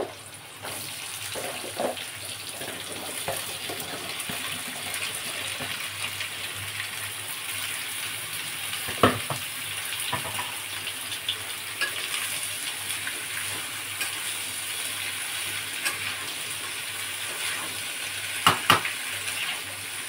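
Potatoes dropped into hot oil tempered with Bengali five-spice (panch phoron) in a home kitchen, a steady crackling sizzle throughout with a few sharp clinks and splashes as pieces go in, no talking.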